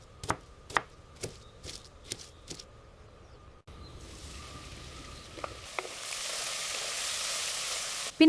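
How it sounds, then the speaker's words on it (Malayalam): Chopped ginger, garlic and black pepper being crushed, a run of sharp regular pounding strikes followed by a steadier hissing, grinding texture with a few scattered knocks. "നമുക്ക് ഈ അരിഞ്ഞു വെച്ച ഇഞ്ചി, വെളുത്തുള്ളി, പിന്നെ കുറച്ച് കുരുമുളകും കൂടി ചതച്ചെടുക്കാം."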